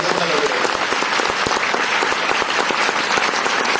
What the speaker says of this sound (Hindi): मैं चाहूंगा उन सारे अचीवर्स के लिए एक बार जोरदार ताली हो जाए